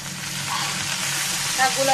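Water spinach goes into a pan of fried potatoes, giving a loud, close, continuous sizzle with stirring scrapes across the short stretch.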